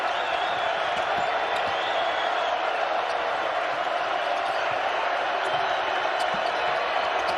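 Basketball arena crowd at an NCAA men's game between Utah State and Boise State, roaring in a steady, loud wash of cheering that runs unbroken throughout, with faint squeaks and bounces beneath.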